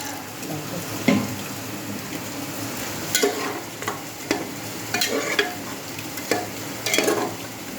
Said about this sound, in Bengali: দেখো মাংস কষানো হয়ে যাচ্ছে